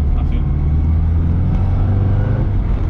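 A classic Mini Clubman drives along with a steady, loud low engine drone and road rumble throughout, heard from inside the car without distinct revving.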